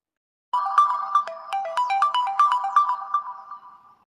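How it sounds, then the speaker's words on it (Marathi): A bright electronic phone ringtone plays a quick repeating melody of beeping tones, loud and close, starting abruptly after a short silence and fading at the end. "थांब आता बोल नको. हे सरपंचाचा फोन आला."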